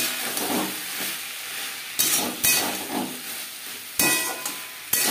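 Vegetable stems, ginger and green chilli paste and two tomatoes frying in a pan for a rohu fish curry, a steady soft sizzle broken by several sharp scraping strokes of the spoon as it stirs.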